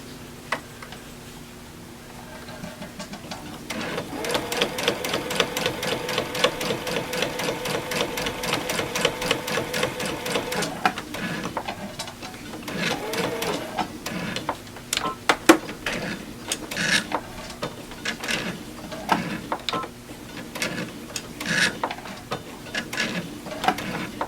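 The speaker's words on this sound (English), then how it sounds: "I'm only going to sew a few inches, like down here." A sewing machine stitches a few inches across a quilted Christmas tree snack pad, running in bursts of rapid mechanical ticking and whirring with brief pauses, close and moderately quiet.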